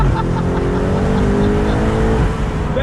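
A 2020 BMW M8 convertible with its top down and a V8 engine booms loudly under throttle, a deep continuous engine roar rising in pitch as it accelerates, close and steady with no talk.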